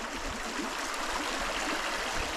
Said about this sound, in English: Here's the water pouring out of it